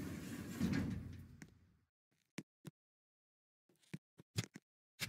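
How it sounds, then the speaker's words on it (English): A garage door in the Roblox game Refinery Caves moves with a short burst of mechanical rumble, then a string of sharp, separate clunks and knocks, faint and close, with no voices. "Epic garage door."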